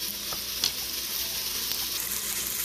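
Onions fry in a Ninja Foodi multicooker, giving off a constant close sizzle with a couple of brief utensil taps and stirring scrapes.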